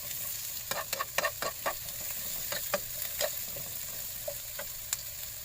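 Shrimp and squid sautéed in a pan: a soft steady sizzle under a quick cluster of sharp spatula clicks and scrapes, then sparser stirring knocks, close by with no talking.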